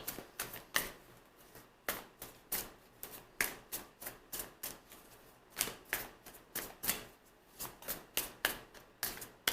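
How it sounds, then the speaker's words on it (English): Tarot cards are shuffled by hand over and over, giving a steady run of crisp riffling bursts, fairly close and quiet, with no voices. "I'm gonna stop shuffling."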